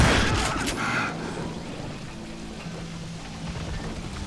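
A quick burst of gunfire in Call of Juarez: Gunslinger up front, followed by a low rumbling echo fading into quieter background noise.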